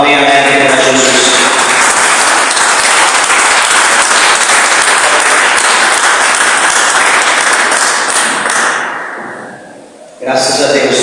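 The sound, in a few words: church congregation applauding for Jesus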